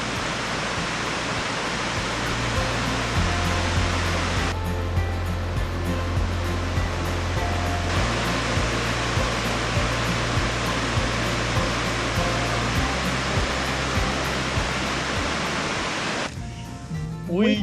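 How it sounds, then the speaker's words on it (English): Water trickles and splashes out of rocks beside a hiking trail near Scottsboro, Alabama, a steady broadband wash heard close and alone, with a brief shift in texture partway through and no talk. "You see the water coming out of the"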